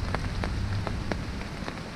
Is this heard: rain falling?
yes